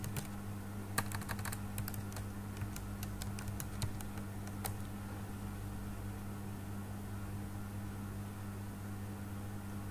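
Typing on a computer keyboard: a flurry of crisp, close key clicks over the first few seconds, then only a steady low machine hum once the typing stops.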